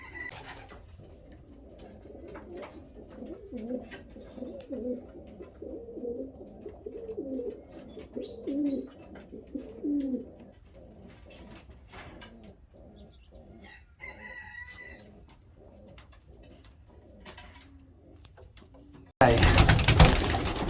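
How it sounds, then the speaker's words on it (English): Soft, rhythmic pigeon cooing repeats for several seconds in a pigeon loft amid rustling and faint indoor noise, ending with a sudden loud burst of sound. "Just wait for all these birds to go crazy."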